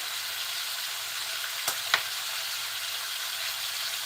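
Chopped onion hissing steadily in hot oil with frying shrimp, with two brief clinks of a utensil partway through. Close and constant, with no voices.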